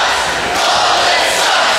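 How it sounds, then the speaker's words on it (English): A wrestling crowd at a steel cage match roars and cheers in a loud, steady, dense wash of voices that fills the whole moment. "people are still cheering for his demise"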